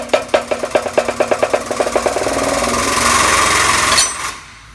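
Hydraulic press forcing a socket out of a cup: a rapid series of loud rhythmic pumping clanks, then a steady strained grinding drone that stops abruptly, close and loud.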